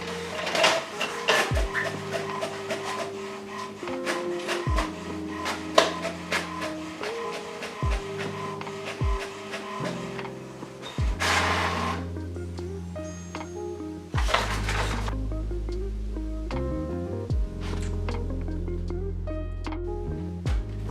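An HP Smart Tank printer runs through a print job with repeated mechanical whirs, rising and falling motor tones and clicks. It ends in a louder sustained feed near the close.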